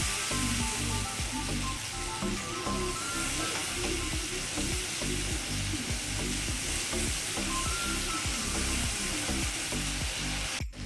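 A continuous loud sizzle as ginger paste fries in a pan of oil, with repeated scraping strokes of a spatula stirring throughout, no voices.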